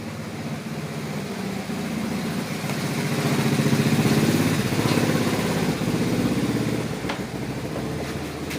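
A Honda Vario 125 2018 scooter engine runs rough in a workshop with its front engine cover off, a steady low mechanical drone that swells slightly midway and settles again, with faint clicks on top.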